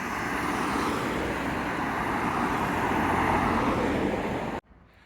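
A modern car driving under an arch of a Roman aqueduct over the River Moselle, a steady close roar of engine and tyres echoing under stone that cuts off suddenly near the end.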